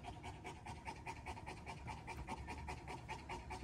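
An Alabai dog pants quickly and rhythmically after a fight, each breath a short, regular huff close to the microphone, continuing steadily throughout.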